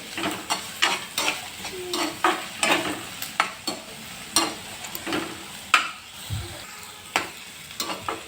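Capsicum being stir-fried in a pan for soybean chilli, a spatula knocking and scraping in a fairly regular rhythm over a light background sizzle, close and distinct, with no voices.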